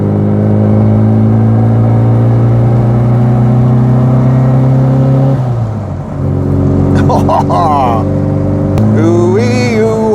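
A 1973 Wood & Pickett Margrave Mini engine drones loudly and steadily while driving, with a brief dip around a gear change before the tone settles again. Faint squeaky noises surface near the end.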